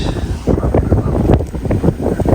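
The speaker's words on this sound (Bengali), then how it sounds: "বাতাস" Strong gusty wind buffeting the microphone, loud low rumbling bursts that rise and fall without pause.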